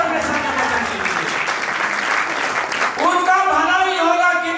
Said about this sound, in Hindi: ताली बजाइए परमेश्वर के वचन के लिए।